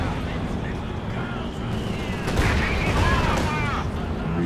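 A Katyusha rocket barrage thunders in Company of Heroes 2, rumbling booms and whooshing launches swelling in the second half over a busy battlefield din, with a commentator talking over it.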